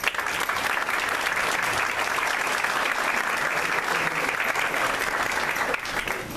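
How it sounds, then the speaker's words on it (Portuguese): Audience at an urban mobility seminar applauding a state transport secretary, a full, steady round of clapping from a crowd that holds for about six seconds before starting to thin out. "gostaria de uma salva de palmas de todos"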